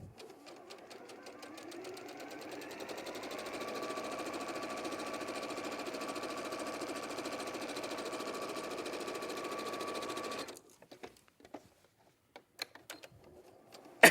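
A sewing machine runs a zigzag stitch on a fabric gift bag, a fast, even mechanical whir with a rapid needle rhythm that speeds up and then stops, leaving a few faint clicks and handling sounds.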